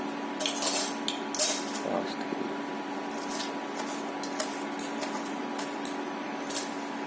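Batter with coriander and mint being stirred in a bowl for sorakaya carrot appachulu, giving close, steady scraping and light clinking of a utensil against the bowl throughout, no voices.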